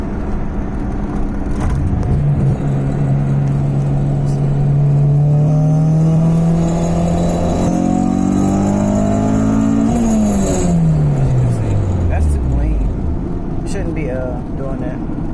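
A Honda Civic with an H2B engine swap revs, its pitch climbing steadily for several seconds and then dropping off quickly, loud and close over people talking.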